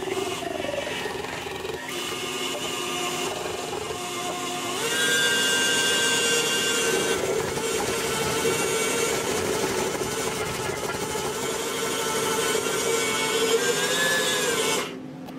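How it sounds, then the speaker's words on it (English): Electric mixer whipping protein fluff as almond milk is added, a loud continuous motor whine that steps up in pitch and intensity midway, then cuts off abruptly at the end. "so now we're gonna slowly add more of the liquid and keep whipping it"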